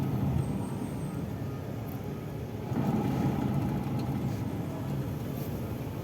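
A steady low hum from the right front wheel of a running owner-type jeep, continuous and fairly loud, with a slight swell partway through and no voices.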